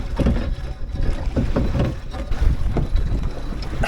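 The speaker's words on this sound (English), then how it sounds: "I might have to do a bit of paddling" A paddle working through shallow water beside a small sailboat, giving rhythmic splashes and swishes at close range under steady wind buffeting on the microphone.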